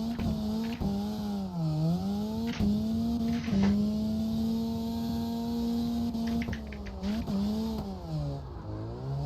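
A drift car's engine holds a loud, steady drone on throttle while driving out of a turn, pitch dipping and rising with a few quick revs and lifts, heard close as from inside the car.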